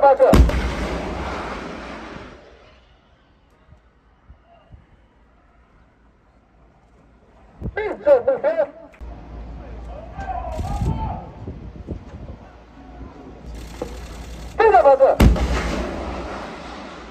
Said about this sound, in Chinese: 接续两波次射击